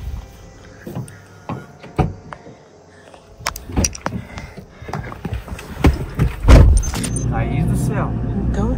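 People climbing into a car outdoors, with keys jangling, footsteps, door and seat thumps, and rustling that grow louder toward the end. Voices talk over the movement throughout.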